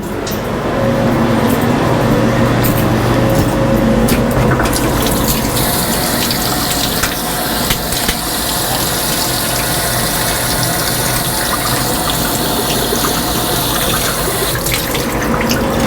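Tap water runs in a loud, steady stream throughout, rinsing off an aluminum machined part in a workshop, with no talking.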